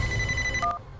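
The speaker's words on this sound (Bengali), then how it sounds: "উফ, আবার ফোন।" A cartoon telephone rings in a short electronic trill lasting under a second, clear over a low background hum and ending abruptly.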